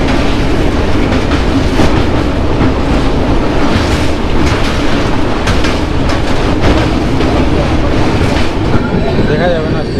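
Inside a Howrah to Puri passenger train running at night: a loud, continuous rumble of wheels on rail with steady clickety-clack and rattling carriage noise throughout, close and unbroken.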